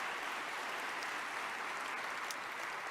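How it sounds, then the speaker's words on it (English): Applause from the audience at an awards ceremony, a dense, steady wash of clapping that holds at an even level for the whole stretch with no voices over it. "let's give them an applause."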